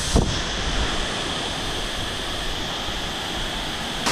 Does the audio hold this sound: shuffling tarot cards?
no